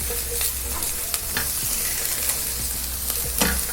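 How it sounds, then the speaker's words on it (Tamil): Bell peppers frying in a pan give a steady, close sizzle, broken by repeated scrapes and clacks as they are stirred, with no talk. "இப்போ இந்த குடமிளகா வறுத்துட்டோம்"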